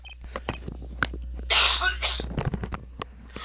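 A harsh, explosive cough bursts out once, loud and close, followed by a second smaller cough and scattered throat noises.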